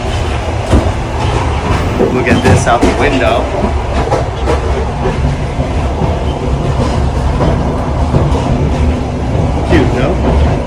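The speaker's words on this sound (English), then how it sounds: "So the train is moving right now." A Russian passenger train rolls along steadily with a constant loud rumble and faint rhythmic clacking of wheels on rails, heard from inside the carriage while someone talks.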